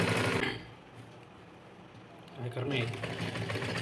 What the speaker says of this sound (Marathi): इथं थोडंसं अर्धा इंच गॅप सोडायचा आणि मग शिलाई मारायची.